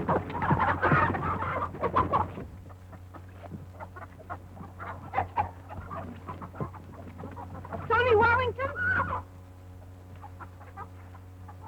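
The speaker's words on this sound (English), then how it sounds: "Oh, he can't hurt them chickens." Chickens cluck and squawk in agitated bursts on a farm in a 1934 western, loud at first and again later, over a constant low hum with brief voices and scuffling.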